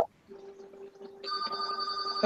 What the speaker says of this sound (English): Our phone's ringing.